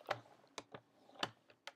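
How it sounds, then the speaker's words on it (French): Blade of a paper trimmer pushed along a sheet to score a fold line for a mini album, giving several short, sharp clicks and scrapes in an uneven rhythm, close by with no talk. "je vais pousser ma lame de coupe"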